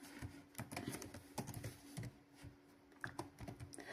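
Typing on a computer keyboard, with quick irregular clusters of light, close clicks and taps, faint and alone with no talk.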